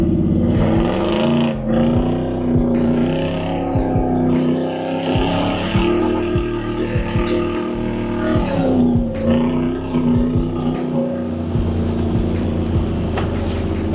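A Ford F150 truck fitted with nitrous and a turbo drives along, its engine droning loudly and steadily with rising and falling revs and rhythmic exhaust pulses throughout, close and continuous with no talk.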